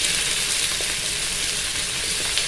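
Chopped spring onions are stir-fried in a hot pan, giving off a loud, continuous oily sizzle and hiss up close, with a few faint scrapes from stirring.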